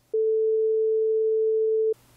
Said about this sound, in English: And here's the same sine wave phase shifted 180 degrees.